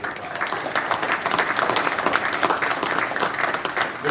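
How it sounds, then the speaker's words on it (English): A crowd at a Hall of Fame induction ceremony applauds for an inductee's daughters, producing dense, steady clapping that holds evenly for the full few seconds. "How about a round of applause for Todd's daughters?"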